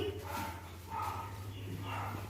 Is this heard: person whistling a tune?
no